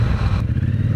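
A motorcycle engine rumbles steadily up close, a low throbbing drone that shifts slightly in pitch as the bike pulls away, with no talking over it.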